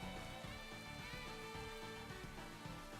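Rain falls during a Pokemon Scarlet battle after the move Rain Dance, a faint steady patter of drops under a soft musical background, with no voices.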